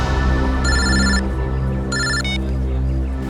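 A telephone rings in two electronic bursts over a low steady hum, in a crime drama scene, loud and close with no talk during the rings.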